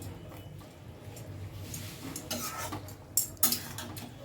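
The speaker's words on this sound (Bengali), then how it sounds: "এই সব কিছু আবারও ভালো করে মিশিয়ে নিচ্ছি।" Spinach cooking in a pan with ground nuts and gram flour powder is stirred, giving soft scraping and clinking of utensil against pan that grows busier toward the end, with two sharp metallic knocks near the close.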